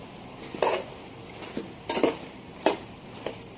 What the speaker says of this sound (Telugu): ఇప్పుడు ఇందులోనే కట్ చేసుకున్న ఉల్లిపాయలు వేసేస్తున్నానండి.